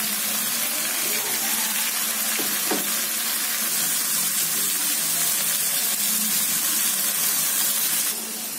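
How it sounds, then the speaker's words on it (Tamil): Chicken added to frying tomato masala for semiya chicken biryani, a loud continuous hiss of sizzling oil, broad and steady throughout, with a brief clatter early on and no talk. "சிக்கன் சேர்த்துக்கலாம்."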